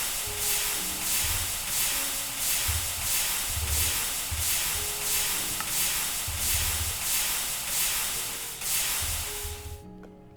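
Steady, loud hiss of steam from a steam boiler in the video game FTB Interactions, continuous for about ten seconds with faint rhythmic low thumps of machinery underneath, then cutting off abruptly at the end.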